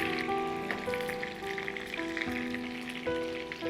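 Cauliflower and potato pieces sizzle and fry steadily in hot oil in a kitchen pan, a continuous crackle sitting beneath faint background tones.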